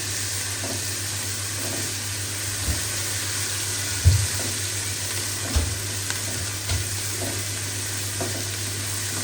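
Garlic sizzles steadily in hot ghee in a pan, with occasional clinks and scrapes of a spoon stirring it, a constant moderate frying hiss throughout.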